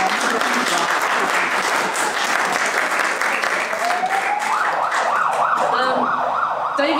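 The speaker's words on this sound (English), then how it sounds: "Please don't clap between poems." Sustained applause from an audience at a poetry reading fills the room, a dense steady clatter of many hands, with a siren rising and wailing faintly in the background toward the end.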